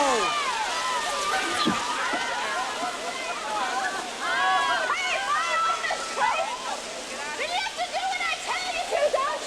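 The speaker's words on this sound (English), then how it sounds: "Then turn off the water!" Running water sloshes and splashes continuously in the foreground, loud and close, with the busy, turbulent sound holding steady throughout.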